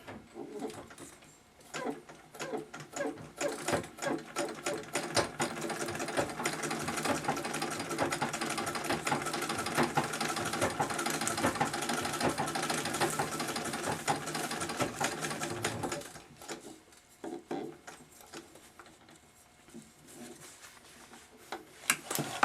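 A Singer 66 sewing machine runs steadily, a fast rhythmic mechanical clatter that starts, holds for about fifteen seconds, then slows and stops, with soft handling noises after.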